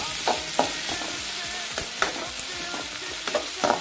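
Sliced onions fry in hot oil with fennel seeds for a crab masala, a steady sizzle broken by repeated scraping stirs of a spoon against the pan, close and fairly loud with no talking.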